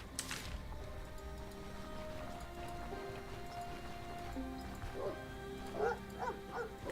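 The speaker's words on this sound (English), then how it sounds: "Dogs." Dogs barking in the fantasy RPG Stoneshard, a few sharp yelps and barks toward the end over a steady ambient game soundscape, no talking.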